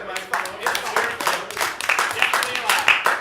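Applause rises from the audience at a presidential town hall debate, a brisk burst of many hands clapping, fairly close and loud, with voices mixed in underneath.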